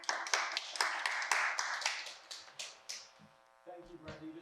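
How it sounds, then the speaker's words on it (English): Scattered clapping from a small group at a Brattleboro community information meeting on just cause eviction, fairly close and tapering off over a few seconds before a voice begins speaking. "You just missed a round of applause, but definitely was one."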